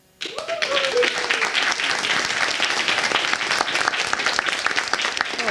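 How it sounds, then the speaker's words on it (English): Loud audience applause at a cybersecurity conference launch event breaks out after a short quiet start and carries on thickly, with a brief vocal whoop or cheer rising above the clapping early on. "I've never had that much of an applause before."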